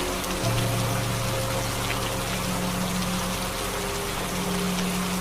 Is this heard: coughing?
no